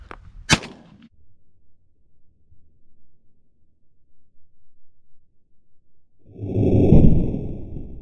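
A shotgun fired at pigeons outdoors gives one sharp, punchy report near the start, then near silence, then a brief rushing burst of noise toward the end.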